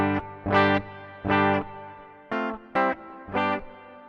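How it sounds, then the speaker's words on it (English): Electric guitar on the bridge pickup plays a series of distorted, sustained chords with a spacious reverb tail, loud and close with short gaps between strums. "So I'm going to stick a bit of reverb on."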